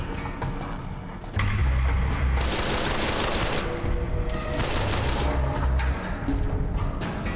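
Sustained gunfire from a weapon in Fallout: New Vegas, loud dense bursts of rapid shots with heavy low thumps running for several seconds, no talk over it.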